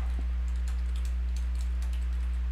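An email address being typed on a computer keyboard, a quick run of light, close key taps over a loud, steady low electrical hum.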